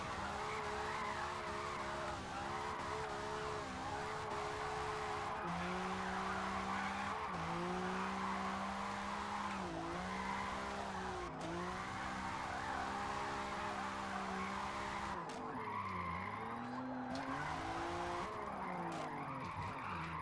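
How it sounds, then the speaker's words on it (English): A supercar drifts in a video game, its engine droning steadily while tires squeal continuously through long slides, with pitch dips as the car swings, heard alone. "Trying to drift a supercar, dude."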